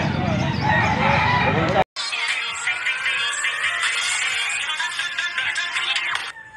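Roosters crow at a chicken derby auction on a Sunday, long drawn-out calls near and loud, with clucking and a busy crowd and speech underneath after an abrupt cut early on.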